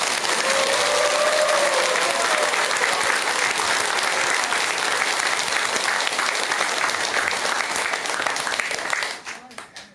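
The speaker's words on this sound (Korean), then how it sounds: "장애가 소멸되었으니 박수를 부탁합니다." A crowd attending a Buddhist dharma talk applauds steadily for nearly ten seconds, a full sustained clapping that tapers off quickly at the end, with some voices faintly mixed in.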